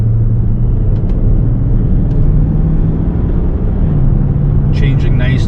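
A Range Rover L405 accelerates from inside the cabin, its engine giving a loud, steady low rumble that holds and shifts pitch slightly. There are a few faint clicks and a brief rustle near the end.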